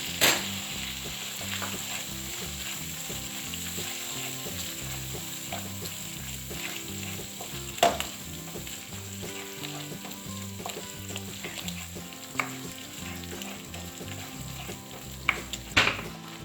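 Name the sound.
stirring and frying soya meat with biryani mix in a pan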